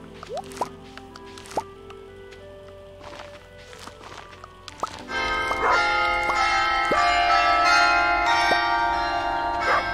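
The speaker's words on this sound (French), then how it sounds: "c'est vrai, entendre mon carillon" Carillon bells chime in a dense, ringing cluster through the second half, following softer dripping and plopping game sounds, with no talk.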